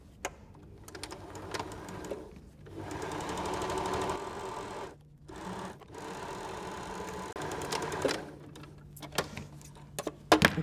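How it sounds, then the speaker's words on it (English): A sewing machine stitches across the bottom of a fabric tote bag, a fast mechanical whir of needle strokes in several bursts with short pauses between them, close and moderately loud. "Get those two ends and then sew across the bottom of your bag."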